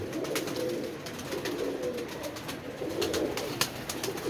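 Pigeons coo steadily in a backyard loft, low soft throaty calls rolling over one another throughout, with a few sharper clicks and rustles on top; no one speaks.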